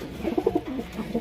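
Pigeons coo close by inside a pigeon loft, a few soft throaty rolling calls in quick succession over quiet background.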